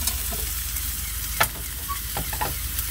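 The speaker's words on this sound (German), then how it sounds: "Jetzt dünste ich hier ein bisschen die Zwiebeln an" Onions sauté in a pan on a small campervan stove, a steady close sizzle broken by a few brief clicks from stirring.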